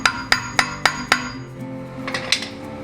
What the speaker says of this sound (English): Alternatively, you can use a hammer and the Clarkson technique to loosen the cone washers